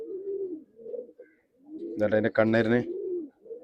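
A tournament-flown pigeon and others coo in a loft in Kozhikode, with soft, low, rolling coos repeating throughout while someone speaks briefly over the middle.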